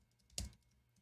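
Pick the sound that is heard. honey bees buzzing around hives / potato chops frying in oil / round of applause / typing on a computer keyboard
typing on a computer keyboard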